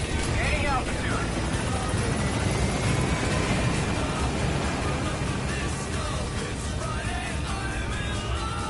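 A helicopter climbing in the video game Metal Gear Solid 5 gives off a steady, loud rotor and engine roar that fills the whole stretch, with game voices speaking over it.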